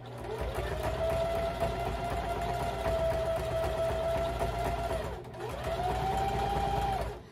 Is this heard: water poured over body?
no